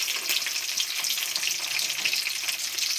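Chopped green chilies and tomatoes fry in a pan with a bright, loud, close sizzle, a constant crackling hiss with small fluctuating pops and no talking.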